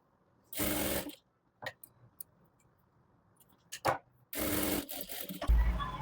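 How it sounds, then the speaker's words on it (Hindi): A sewing machine top-stitches a fabric strip in two short bursts of whirring, separated by quiet clicks and handling taps, ending in a low thump. "इस पट्टी को हम ऊपर से स्टिच कर देंगे"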